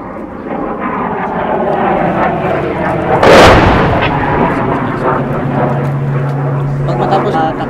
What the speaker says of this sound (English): the target of our maneuvering elements is to neutralize those vantage positions through our mortar fire